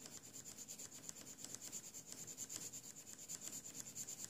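Metallic colored pencils scratch across a coloring book page in quick, rhythmic back-and-forth strokes, a faint, close, dry rasping with no talk.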